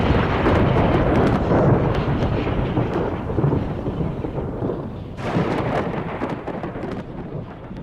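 Thunder from lightning bolts in a storm, a loud, continuous rolling rumble lasting throughout, with a fresh crack-like surge near the end and rain-like hiss beneath, no voices.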